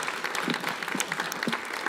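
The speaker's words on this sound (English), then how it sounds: "Let's have a round of applause." An audience applauds after a reading at a book event, a brief, even patter of many hands clapping in a room, with a few faint voices underneath.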